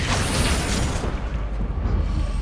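A Bombarda blasting spell exploding in Hogwarts Legacy, a loud, close, broad boom that roars heavily at first and then rumbles down into a lower, lingering rumble, with no voices heard.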